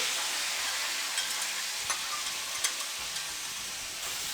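Boiled cluster beans are stirred in a hot frying pan, a steady close sizzle broken by a few sharp spatula scrapes and clicks, with no talk.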